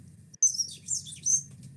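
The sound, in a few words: voice imitating a bird whistle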